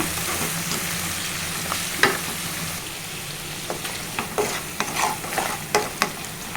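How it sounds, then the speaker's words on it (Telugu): Ginger-garlic paste being stirred in a cooking pan for a simple brinjal and tomato curry: a soft, steady sizzle with a series of sharp scraping clinks from the spoon that grow more frequent toward the end. "పావు టీ స్పూను అల్లం వెల్లుల్లి పేస్ట్ వేసుకోవాలండి కొంచెము కలుపుకోవాలి"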